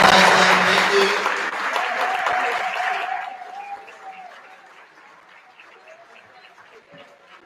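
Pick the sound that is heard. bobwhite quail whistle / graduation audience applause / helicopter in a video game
graduation audience applause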